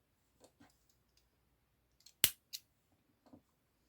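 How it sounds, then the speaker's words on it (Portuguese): Scissors snip crochet yarn with one sharp, close click, followed soon after by a second lighter snip. Faint handling rustles come before and after in an otherwise quiet room. "Aqui eu já posso cortar meu fio."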